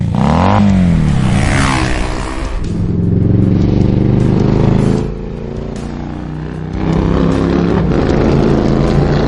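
A revving sports motorcycle engine roars loudly, its pitch rising and falling as it accelerates and eases off, close and continuous throughout.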